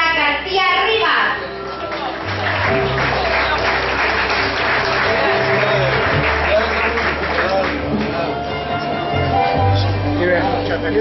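A crowd at a school graduation ceremony applauds in a steady, dense wash of clapping that lasts throughout, with a loud announcer's voice speaking over it and scattered children's voices.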